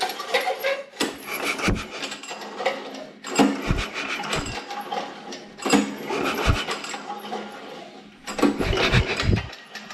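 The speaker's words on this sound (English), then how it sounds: "I'm going to use the starter to just rotate the engine a couple of times." A Honda GX390 engine with its cylinder head just replaced is turned over by the starter in several short cranking bursts separated by pauses, a mechanical whirring and clatter close by, with no talking.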